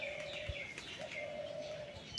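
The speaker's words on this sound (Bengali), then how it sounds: "এই যে দেখেন এই যে ঘুঘু" Doves kept around a pigeon loft give soft, drawn-out cooing calls, steady and moderately distant, with faint chirps mixed in and no talk.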